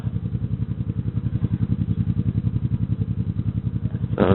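A motorcycle engine chugs at low speed during slow full-lock turns, a close, rhythmic low-pitched thumping pulse that holds steady, with a brief burst of noise near the end.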